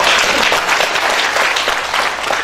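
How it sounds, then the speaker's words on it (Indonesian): Steady, dense clapping from a church congregation fills the whole stretch, loud and sustained without a break. "Tepuk tangan untuk Tuhan kita"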